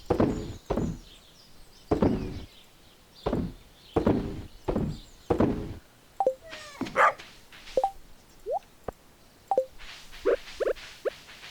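Short, bright barks from a dog in the farming video game Stardew Valley come in the second half. They follow a run of dull thumps, with several separate yips spaced unevenly and no talk.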